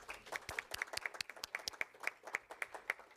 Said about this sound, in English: So could we please give Katie a round of applause?